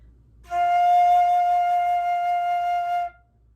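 A single high flute note held steadily for about two and a half seconds, clear and pure, with faint low background hum.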